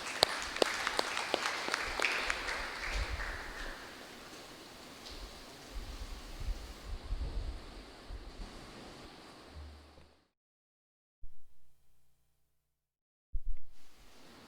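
A church congregation at a Sunday midday Mass claps to welcome a philosophy seminarian, a broad, hissing wash of applause that thins out and stops after about ten seconds, followed by near silence broken by brief soft noises.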